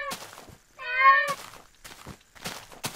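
A cat meows once in the Minecraft video game, a short clear harmonic mew standing alone between other game sounds.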